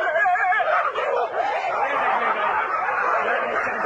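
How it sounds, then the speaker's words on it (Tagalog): Several dogs scuffling and barking close by in a continuous, busy tangle of yaps, growls and snarls, with a person laughing amid the commotion. "Pinag-away pala yung mga aso, no?"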